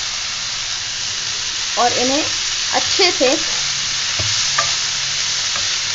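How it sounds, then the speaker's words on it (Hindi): Radish leaves tossed into a hot pan for mooli patte sabzi, a steady sizzle with a few stirring scrapes and clanks of a utensil, close; a voice speaks briefly over it. "अब हम इसमें डाल देंगे ये मूली के पत्ते,"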